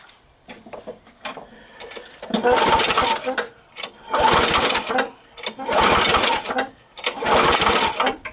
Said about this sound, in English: if you tilt it forward like this, it's gonna put more fuel into the thing, and you're gonna hear it pumping